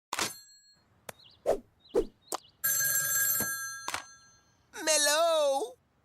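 A cartoon hotline phone rings in loud, bright bursts among sharp comic plops and thwacks, ending with a wobbling electronic warble, while a voice speaks briefly between the effects.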